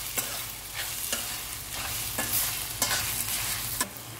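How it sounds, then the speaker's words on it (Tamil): Tomatoes sauté in a pan for prawn thokku, a constant sizzle broken by regular, fairly loud scraping stir strokes about every half second, with no voices. "தக்காளி நல்லா வதங்கணும்"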